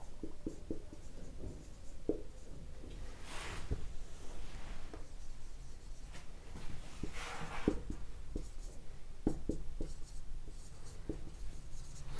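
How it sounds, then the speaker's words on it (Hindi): Chalk or marker scratching and tapping out an equation for a circle on a board during a coordinate geometry lesson, with irregular strokes and taps, fairly close and steady, no talk over it. "एक इक्वेशन लिख रहे हैं हम।"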